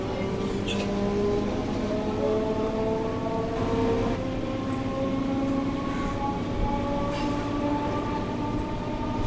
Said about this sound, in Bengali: আমাদের ট্রেনটা এই বড়বাজার ছেড়ে দিল